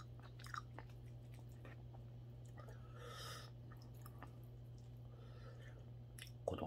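Close, quiet chewing of mackerel porridge, with soft wet bites and occasional small clicks over a steady low background hum.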